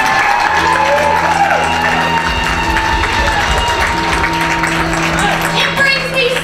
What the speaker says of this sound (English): can I have a round of applause for the crew here at Cargo?